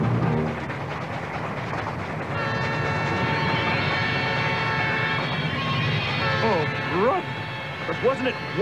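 A cartoon train in a 1980s Mighty Mouse episode rumbles steadily, joined by a sustained horn-like whistle partway through, with animated character voices chattering near the end.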